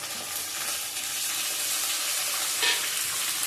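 Fresh tomatoes dropped into a hot oiled pan, sizzling and frying loudly with a steady, bright crackle and a brief stir near the end.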